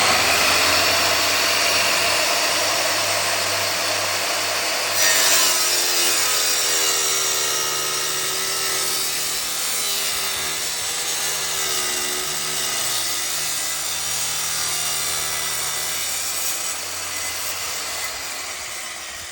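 A wet saw cuts through marble mosaic tile with black pieces, a loud, close, steady grinding whine over a humming motor that holds for the whole stretch, shifting in pitch as the blade bites and then easing slightly near the end.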